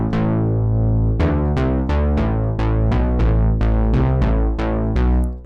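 Low-register synthesizer bass patch playing a sequence of plucky notes with sharp attacks and quick decays, loud and deep, heard alone.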